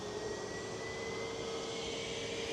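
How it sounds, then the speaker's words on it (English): Steady, distant jet roar of an EasyJet passenger airliner at Manchester Airport, a constant broadband rumble with a faint high whine throughout and no talking. "EasyJet to Prague, GUZLB, flight 2229."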